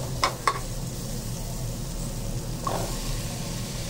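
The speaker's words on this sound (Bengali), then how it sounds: "চুলা মিডিয়াম হিটে রেখে 2 থেকে 3 মিনিট এইভাবে নাড়তে হবে।" Food sizzles steadily in a pan on medium heat while being stirred for a lemon garlic chicken dish. Two quick utensil clicks come early and another near the end, with no voices.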